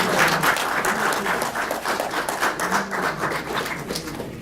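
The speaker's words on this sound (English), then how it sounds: "Applause, everybody, please." A crowd at an annual kickoff celebration claps warmly for their secretary, a steady, full wash of applause that holds evenly before thinning slightly toward the end.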